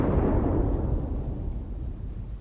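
Low, rolling thunder from an approaching storm in the Leisure Suit Larry video game, a loud, sustained rumble that fades slightly over a couple of seconds with no one talking.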